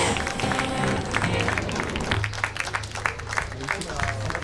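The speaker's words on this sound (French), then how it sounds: "On vous applaudit avec bien plaisir." Festival showcase audience applauding, a dense wash of many hands clapping at steady volume throughout, with crowd noise mixed in.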